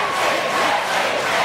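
An election-night crowd cheering and shouting on the night of the 2007 Australian federal election, a dense, loud continuous roar of many voices heard from a distance.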